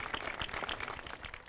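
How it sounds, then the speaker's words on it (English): Audience applause at a ribbon-cutting ceremony for the Alum Creek Trail greenway, a steady, dense patter of many hands clapping throughout, moderately loud and continuous without talk. "Please, one more round of applause for all those partners that help make these greenways happen."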